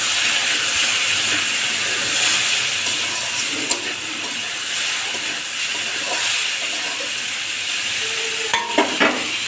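Vegetable chorchori frying in a pan, a loud steady hiss of sizzling with faint scraping of stirring and a few sharp clinks near the end, close up and without talk.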